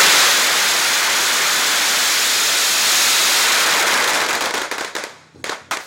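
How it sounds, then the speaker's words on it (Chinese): Firecrackers burst in a dense, deafening roar during a Lantern Festival temple procession with a large vehicle convoy in Chishang, Taiwan, then break into scattered separate bangs as the barrage fades. "鞭炮声是震耳欲聋"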